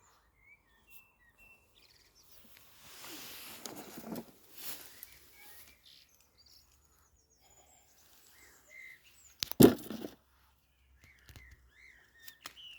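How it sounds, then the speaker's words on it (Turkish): Spring birdsong in the open air: scattered high chirps and short calls, fairly faint, with a louder burst midway and quiet gaps between. "kuş sesleri. Bunlar tabi baharın geldiğinin habercisi."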